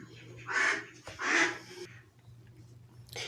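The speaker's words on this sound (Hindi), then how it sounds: "बतख का आवाज़ जो कि आपको अभी सुनने को मिला है इसके लिए माफ़ कीजिएगा" A duck quacks outdoors in two loud, harsh calls close together, followed by a fainter call after a pause, over low steady background hum.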